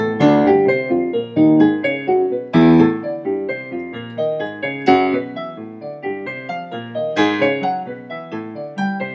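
A melodic exercise following an ascending whole tone scale, played on a pitched instrument as a steady run of rising note groups, clear and close with no talking.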